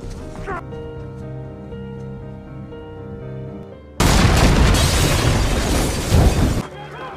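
Film recap bomb blast at a farm: a tonal musical passage cuts abruptly to a loud, dense roaring explosion with crackling debris for a few seconds before dropping off.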